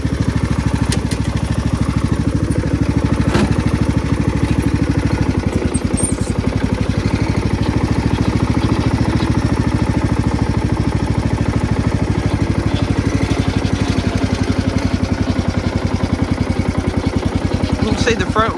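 Old lawnmower engine running close by with a loud, steady chugging idle that holds throughout, while someone talks over it.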